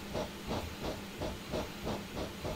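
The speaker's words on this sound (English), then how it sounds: "It's a steam train." A steam locomotive on the Isle of Wight steam railway in Train Simulator hisses in rhythmic, evenly spaced chuffs, about three per second, steady and fairly close with no talking.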